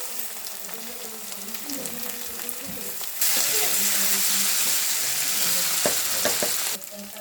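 Spices sizzle and fry steadily in a hot pan for a fish curry, a continuous close crackle that grows louder partway through, with occasional stirring clinks and no talking.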